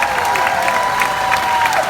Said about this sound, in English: How about a round of applause for all our veterans tonight?